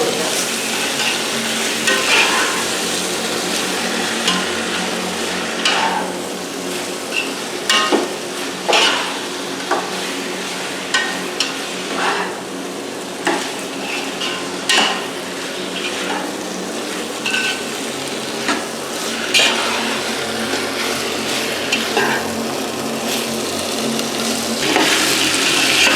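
Chicken frying in a pan for biryani while being stirred: a steady close sizzle runs throughout, broken by repeated scraping and clinking strokes of a spoon against the pan, with no talking.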